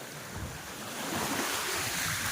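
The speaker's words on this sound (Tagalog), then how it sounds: "masama ang panahon at malalaki ang alon" Heavy lake surf crashing steadily in stormy monsoon weather, with strong wind buffeting the microphone, a continuous roaring wash of big waves that swells louder partway through.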